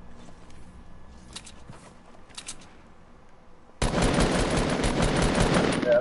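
Gunfire in the Fortnite video game, a few scattered sharp shots followed by a sudden loud, sustained burst of rapid fire that continues to the end.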